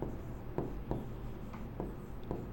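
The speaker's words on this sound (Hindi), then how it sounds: "मैं यहां लिख देता हूं" Chalk or marker scratching on a board during a class, in short strokes with a few distinct taps and scrapes, alone and moderately close.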